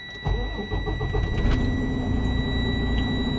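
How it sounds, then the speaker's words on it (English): A truck's diesel engine cranks and catches, then settles into a loud, steady idle inside the cab, with a high electronic tone ringing throughout during an air brake pre-trip check. "You're gonna clutch, make sure it's in neutral, start the vehicle."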